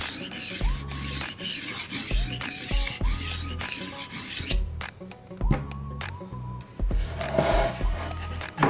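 Knife edge rasping repeatedly against the abrasive disc of a HORL rolling sharpener, in steady back-and-forth strokes with short pauses, close and fairly loud with no talk.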